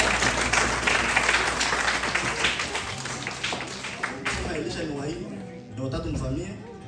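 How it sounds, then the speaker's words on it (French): Guests applauding a graduating daughter at a family graduation and birthday party, a lively burst of clapping that fades, with cheering and voices talking over and after it. "Acclamons pour la fille."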